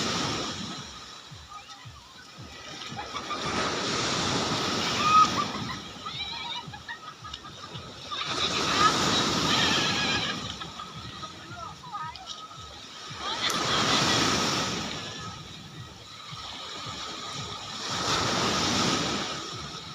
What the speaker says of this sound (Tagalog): ang lakas ng alon mga idol